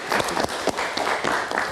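Studio audience on an Indonesian live talk show bursts into steady clapping and applause, a dense crowd sound held evenly throughout with a few sharper individual claps standing out.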